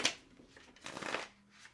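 Tarot cards shuffled during a reading, two brief soft riffling bursts, faint and close, with no talking.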